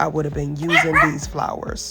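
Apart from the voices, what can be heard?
dog barking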